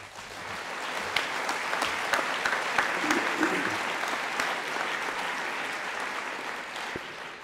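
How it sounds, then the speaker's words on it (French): An audience at the closing of a regional nature parks congress in the Verdon applauds international guests, with steady, moderately loud clapping sustained throughout. "je vous propose de les applaudir"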